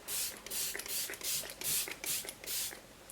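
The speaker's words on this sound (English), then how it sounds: "So I just give myself a couple sprays" Mavala Skin Vitality facial spray mists out in a series of about eight short, close puffs, each a soft airy hiss, with faint handling sounds between them.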